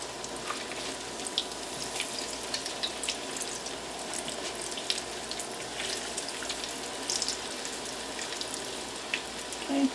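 Zucchini fritters frying in a pan, giving off a steady bubbling sizzle with scattered little crackles and pops, close up and continuous, with no talking.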